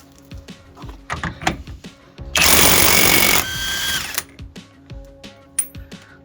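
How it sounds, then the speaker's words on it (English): A large socket on an impact tool loosens a big wheel nut, giving a loud rattling hammer burst of about a second, preceded and followed by ratchet clicks and metallic clanks of handling. "get the large socket to take my big nut off"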